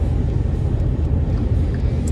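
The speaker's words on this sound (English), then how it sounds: "I'm actually driving home on 75, Interstate 75" A car cruises on Interstate 75 with a steady, close low road and engine rumble that holds constant throughout, without any talking.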